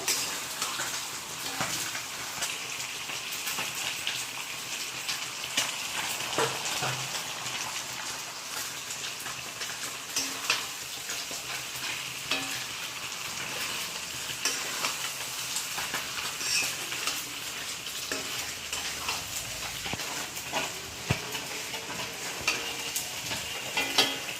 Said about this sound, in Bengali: এখন আমি এখানে মাছ ভাজা দিয়ে দিব